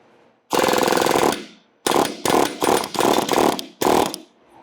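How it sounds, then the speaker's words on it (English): A pneumatic air hammer drives a pin out of a clamp on a downhole cable protector, firing in one long loud burst followed by several shorter rapid bursts with brief pauses between. "Now taking our air hammer, we'll drive the pin out."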